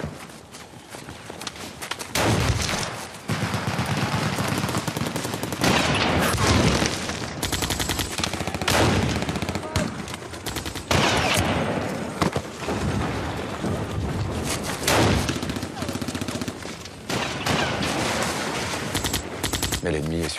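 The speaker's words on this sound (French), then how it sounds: "Les mitraillettes crachent." Submachine guns rattle in sustained bursts while grenades burst with heavy thuds in a dramatized battle of the French Resistance, dense and loud throughout, with a voice narrating over the din.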